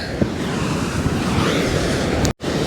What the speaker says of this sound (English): Waves rolling up onto the rock there at the parking lot at Clovelly.